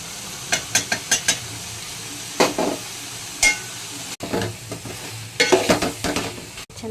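Tomato and ginger garlic paste frying in a pan for chicken pepper dry fry, a steady soft sizzle broken by repeated scraping stirs of a spoon against the pan, close and alone.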